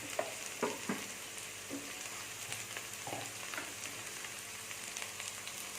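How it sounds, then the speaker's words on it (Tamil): Onions sauté in a pan for a chicken liver fry, giving a faint, continuous sizzle broken by several soft scrapes and stirring clacks. No one speaks. "வெங்காயம் நல்லா வதங்கிருச்சு"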